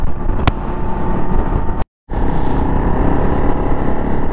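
A motorcycle rides along an alpine military road on a cold morning, its engine a steady close drone with wind rush, broken by one brief dropout.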